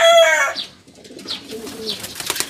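Pigeons coo softly in a few low, rounded phrases, close by, with brief bursts of other bird chatter around them.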